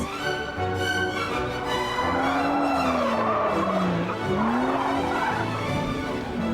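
A works-prepared Aston Martin DB7 skids across an open airfield, its loud, steady engine roar overlaid with a wavering tyre squeal that rises and bends for several seconds.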